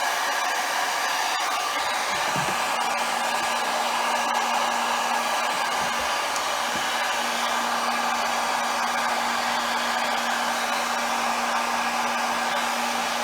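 A heat tool blows hot air steadily onto tinted film over a Porsche third brake light, a loud, constant whooshing drone that holds for the whole stretch without pause.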